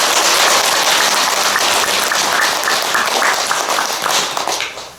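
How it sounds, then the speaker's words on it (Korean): A lecture audience claps in thanks to the head monk and the other monks of a Korean Buddhist temple at a New Year prayer talk: dense, sustained applause filling the room, then fading at the end. "감사의 박수 한번 크게 보내드립니다"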